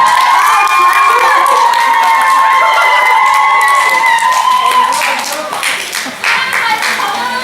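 Loud crowd cheering and clapping with high excited shouts at a K-pop fan signing event, fading slightly toward the end; voices call out over it.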